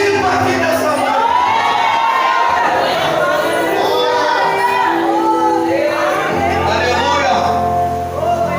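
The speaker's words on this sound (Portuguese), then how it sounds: "Libere o grito aqui nessa noite." A church congregation shouts loudly during worship, a dense, sustained roar of many voices and cries that fills the space continuously at close range.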